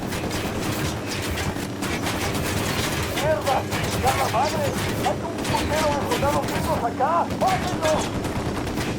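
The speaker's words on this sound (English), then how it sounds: "Shit, he knows he's taking fire." Gunfire in the video game Ghost Recon Wildlands: rapid bursts of automatic weapon fire and scattered shots, loud and continuous, with voices speaking over the shooting.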